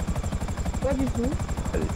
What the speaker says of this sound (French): ils ont ce genre d'hélicoptère